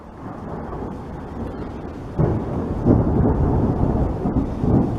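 Deep thunder from a lightning storm rumbles steadily, then swells with a sharper crack and rolling booms, with a faint wash of rain underneath.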